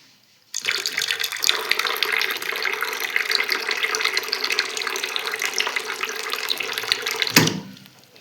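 Very hot water runs from a tap in a steady, close splashing stream that starts abruptly, flows for about seven seconds, then shuts off with a final splash.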